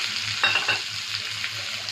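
Garlic, ginger, capsicum and onion sizzle steadily in a hot pan, with a few soft stirring scrapes rising above the continuous frying hiss.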